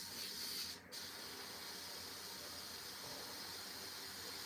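An airbrush sprays paint onto a Warhammer miniature in a continuous close, bright hiss, briefly dipping as the trigger is eased before resuming steadily.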